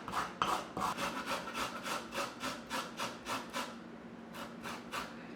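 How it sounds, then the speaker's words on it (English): Fresh turmeric root is rubbed across a very fine grater in a home kitchen, producing a close series of quick, rasping back-and-forth strokes with a brief pause before the last few passes. "I'm going to take my very fine grater and just going to grate up some turmeric"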